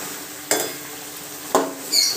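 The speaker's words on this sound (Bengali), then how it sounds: "আমার 2 মিনিট মশলাটা কষানো হয়ে গিয়েছে বেগুন দিয়ে" Spice paste and eggplant frying in a pan, a soft background sizzle broken by two sharp scraping strokes of a spatula and a final clatter.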